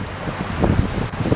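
Strong wind roars in a steady, gusty rush during a hailstorm, loud and close against the microphone, with no voices.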